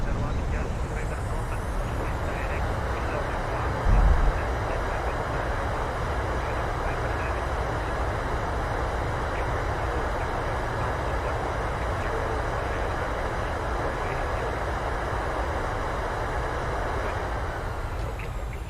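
A PMDG Boeing 737-900ER in Turkish Airlines service lands in Microsoft Flight Simulator, its thrust reversers deploying into a loud, steady broadband roar that holds throughout, with a short thump near the start and faint talk beneath.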